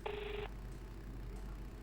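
A telephone rings once in a short, bright electronic burst that stops after about half a second and is not picked up, leaving only a low background hum.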